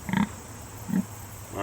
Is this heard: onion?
no